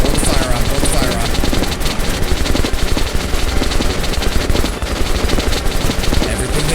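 Heavy, sustained automatic gunfire in a Metro video game battle, a dense, loud stream of shots with barely a pause, layered with chaotic combat noise.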